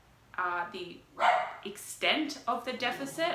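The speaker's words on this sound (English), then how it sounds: "Sorry about my dog. Of course he has to bark now." A dog barks several times close by in a home, the short sharp yaps coming in bursts over a person talking.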